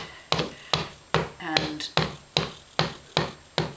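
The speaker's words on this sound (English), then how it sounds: "So I'm going to go along one end, just doing a gentle hammer down along like this" Gentle, even hammer taps along the spine end of a book during case binding, about nine sharp strikes at a steady rhythm, close and clear, with a word spoken briefly partway through.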